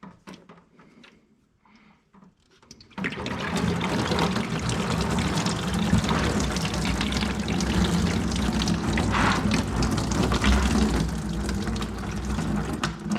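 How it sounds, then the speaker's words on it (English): Antifreeze coolant gushing steadily from a 2018 Polaris Ranger 900 XP into a drain pan on a floor mat, starting abruptly after a few quiet seconds with light handling noises, then a loud, continuous pouring rush to the end. "we got just about all of our antifreeze dumping out here"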